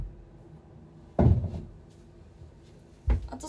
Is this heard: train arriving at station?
no